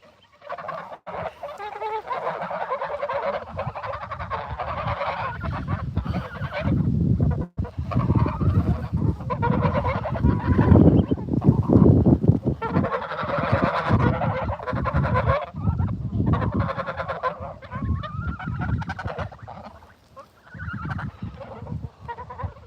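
A crowd of geese honking and cackling continuously, loud and close, with overlapping calls throughout and a brief lull near the end.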